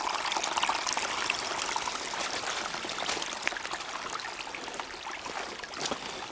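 Water trickles and splashes continuously over stones, a small cascade babbling close by with a steady, bright rush.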